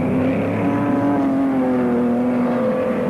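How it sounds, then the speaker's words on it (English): A yellow Monza saloon car screams down the back straight at Speedway Park during a 1980 saloon car race, its loud, steady engine roar sustained close by with other cars droning underneath. "But Crowhurst, that yellow Monza, screaming down the back straight."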